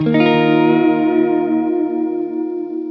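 An electric guitar played through a pedalboard with vibrato and chorus effects rings out in one strummed chord. The chord sustains and decays slowly with a shimmering, wavering tone, loud and alone.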